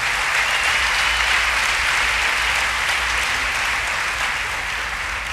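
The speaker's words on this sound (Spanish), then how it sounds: "Den un aplauso a la palabra de Dios." A church congregation at a Christian center claps after a scripture reading, a sustained, even round of applause filling the hall for about five seconds without speech.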